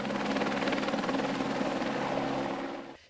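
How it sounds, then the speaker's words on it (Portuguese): A Civil Police helicopter flies overhead during a funeral, its rotor chop loud and steady throughout and fading slightly at the very end, with no voices. "Pétalas de flores foram lançadas do helicóptero da Polícia Civil."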